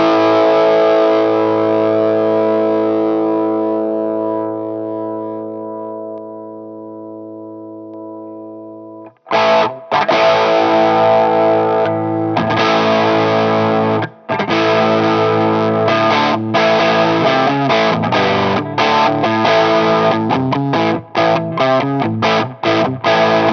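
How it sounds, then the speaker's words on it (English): A Tokai FB65 vintage electric guitar through an MXR FOD overdrive pedal: a long sustained distorted chord slowly fading, then a short gap and loud choppy overdriven riffing with punchy stops and restarts, no talking. "we're going to rock with the MXR FOD first, which is a great sort of Marshall-y sounding pedal"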